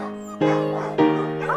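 Several friendly puppies whimper and yip in high, wavering cries, with two sharper onsets close by and a steady chorus of whines between them.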